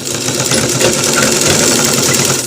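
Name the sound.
sewing machine stitching a shirt collar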